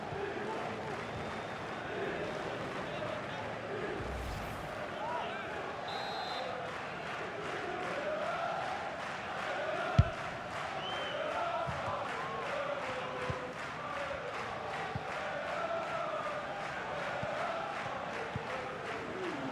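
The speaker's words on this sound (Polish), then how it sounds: "Brawa za interwencję." A stadium crowd roars and cheers at a steady, moderate level throughout a FIFA 22 football match, following a goalkeeper save, with a single sharp thump midway.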